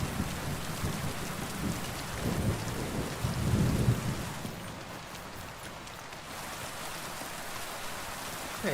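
Steady rain with low rumbling thunder in a video game world, the rumble swelling in the first half then settling back to a soft, even downpour, with no voices.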